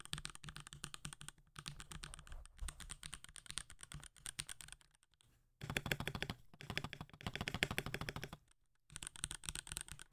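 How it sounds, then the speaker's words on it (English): Rapid typing clatters on a new black and yellow computer keyboard, close and crisp, in bursts of quick keystrokes separated by a few short pauses. "let's do the typing test real quick."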